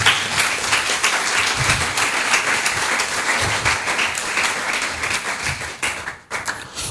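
A church congregation claps during a sermon, a thick continuous burst of many hands clapping with some sharper individual claps, loud and sustained before briefly dipping near the end.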